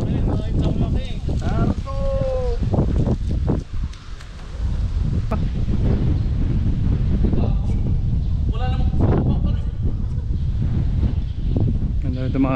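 Steady wind buffets the microphone in a constant rumbling roar at National Chung Cheng University in Chiayi, with people talking through it.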